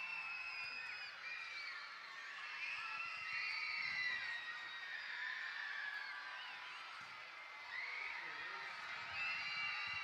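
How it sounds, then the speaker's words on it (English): A crowd at a Dublin senior camogie final cheers and shouts in swelling waves as players cross in front of the main stand, heard at a distance under a commentator's voice. "And the crowd up on their feet as the players make their way back across in front of the main stand."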